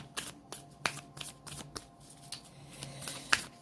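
A Sacred Destiny oracle card deck shuffled close up, a quick series of soft riffling flicks and card slaps in an irregular rhythm, with no talking.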